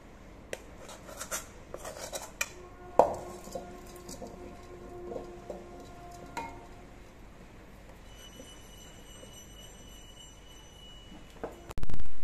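A jackfruit seed mixture is spread across an oiled metal plate with a spoon, giving scattered light scrapes and metallic clinks at close range, with one sharper knock early and a louder thud at the end.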